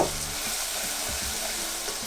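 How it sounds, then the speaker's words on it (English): Loud, steady sizzling and crackling fills the clip, a dense hiss of butter bubbling up in hot caramel close up, with no voices. "it'll make a sizzling noise"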